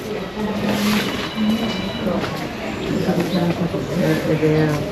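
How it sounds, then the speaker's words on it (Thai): An inclined funicular lift hauls visitors up the hillside to the Doi Suthep temple in Chiang Mai, a continuous rumbling mechanical hum with faint rail-like clatter, heard under steady nearby conversation. "ที่แรกนึกว่าจะเป็นรถรางเนาะเป็นลิฟต์นะครับ เป็นลิฟต์ดึงขึ้นในทางเฉียงเฉียงนะครับ"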